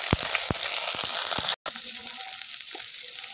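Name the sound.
capsicum and onion slices frying in oil in a wok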